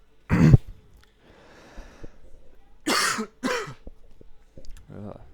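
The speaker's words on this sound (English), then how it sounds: "a lot of coughing" Close, loud coughing and throat clearing in a quiet room, several separate harsh bursts with pauses and breaths between them, without talk.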